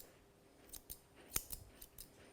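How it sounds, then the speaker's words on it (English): Grooming scissors snip through a poodle's hair during a finishing trim, a few quiet, crisp, separate cuts with one sharper snip in the middle. "I'm going to open my blade wide and just do one cut."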